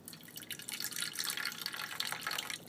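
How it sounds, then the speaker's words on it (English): Brita-filtered water pours into a bowl being prepared to feed a bird, a soft, steady trickling splash that is faint and alone. "And then I fill it with Brita water"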